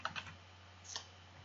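A handful of quick keystrokes on a computer keyboard, faint and close, as a word is typed into a search field.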